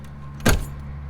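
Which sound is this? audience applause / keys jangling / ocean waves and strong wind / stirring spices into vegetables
keys jangling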